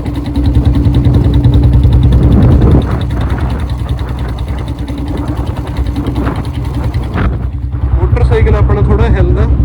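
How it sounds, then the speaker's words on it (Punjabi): A Royal Enfield Bullet motorcycle engine runs in fifth gear at low speed, a steady mid-pitched thumping drone under continuous close talk, with a brief quieter dip near the end. "ਹੁਣ ਆਪਣਾ ਮੋਟਰਸਾਈਕਲ 5ਵੇਂ ਗੇਅਰ 'ਚ ਆ ਅਤੇ 35 ਦੀ ਸਪੀਡ 'ਤੇ ਆ"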